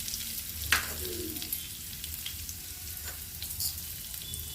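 Asafoetida and broken dried red chillies sizzle in hot oil for a tadka, a steady loud frying hiss with a brief sharper crackle as the chillies hit the oil.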